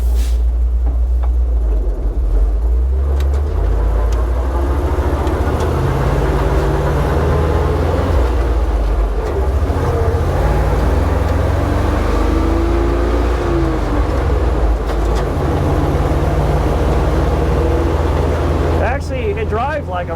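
A 1971 Dodge D700 ramp truck, 32 feet long with its rear windows out, rumbles along with a loud, steady low engine and road roar that holds close and constant throughout.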